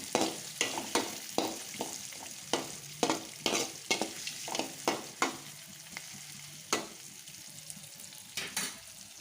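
Green chillies fry in a pan for upma, a steady close sizzle punctuated by a regular series of sharp spatula scrapes and taps against the pan, with no voices.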